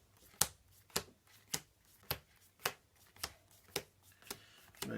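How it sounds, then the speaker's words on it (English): In the video game Iron Helm, a card deck is reshuffled with a quick, regular series of about nine crisp card flicks or snaps, evenly spaced and moderately loud, with no talk. "So this deck gets reshuffled."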